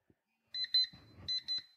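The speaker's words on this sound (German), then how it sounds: "Aktiviert sich der Wecker und gibt mir die Nachricht" A phone app alarm clock goes off with two short bursts of bright electronic beeping, with a soft rustle in the gap between them, close and clear against silence.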